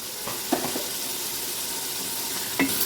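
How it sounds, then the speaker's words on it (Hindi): Mutton with coriander powder and crushed black pepper sautéing in a pot for aloo gosht, a continuous hiss of frying broken by a few quick metallic scrapes of a spoon near the start and end. "और अब हम अच्छे तरीके से इसकी भुनाई करेंगे।"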